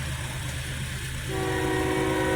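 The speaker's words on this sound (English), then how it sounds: "I think the train's blowing the horn at this crossing" A Union Pacific tanker freight train sounds its horn at a crossing, a loud sustained multi-tone blast starting partway through over the steady low rumble of the moving train.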